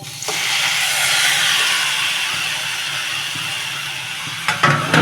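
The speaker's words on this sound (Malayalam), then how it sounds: "നമ്മൾ കഴുകി വൃത്തിയാക്കി വെച്ചിരിക്കുന്ന ചെമ്മീൻ ഇട്ട് കൊടുക്കാം" Washed, cleaned prawns hit a hot pan for a prawn chammanthi, giving a loud, steady hiss of sizzling that holds throughout, with a couple of sharp utensil knocks near the end.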